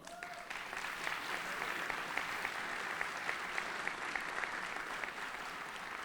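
Steady applause from an audience at a women-in-leadership salute ceremony, honoring Kathleen Brady; even, sustained clapping at moderate distance, fairly soft, with no talk over it.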